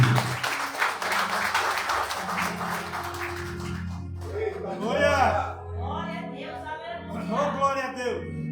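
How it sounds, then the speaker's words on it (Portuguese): A church congregation claps for the Lord in a dense burst of applause lasting about four seconds, with a low musical drone underneath, then a voice begins preaching over soft music. "Aplauda ao Senhor e ao Senhor."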